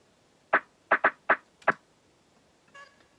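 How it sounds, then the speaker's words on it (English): A lo-fi snare drum sample from a producer's remix breakdown gives five short, dry, band-limited hits in a loose rhythm, fairly quiet and alone, followed by a faint tonal blip. "One of them is just a lo-fi snare, sounds like this."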